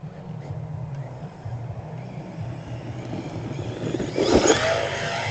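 A Team Corally Triton two-wheel drive RC truck revs its small electric motor in a steady whine, then surges louder near the end as it flips over and lands; nearby and fairly loud, no talking.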